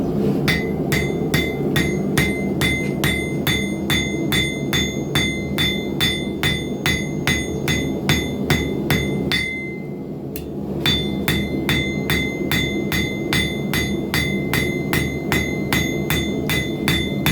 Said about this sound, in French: Bon, là on va taper un peu. On va taper la lame.